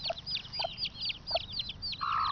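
A black hen and her white chicks cluck and peep while foraging in grass and buttercups, with a quick run of short, close chirps and a few low clucks repeating over a soft outdoor background.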